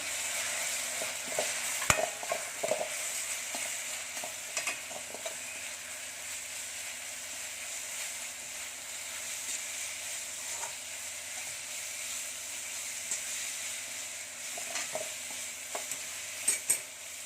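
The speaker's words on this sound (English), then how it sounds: "Now I'm going to add the ginger garlic paste first." Ginger garlic paste sizzles steadily in a pan while capsicum rice is being made, with a constant frying hiss and occasional scraping stirs and clinks throughout, and no voices.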